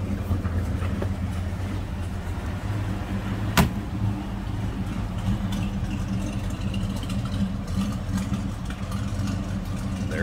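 A restored 1929 Packard Custom Eight Dual Cowl Phaeton's engine idles at a low, steady rumble, heard up close with a single sharp click partway through and no talking.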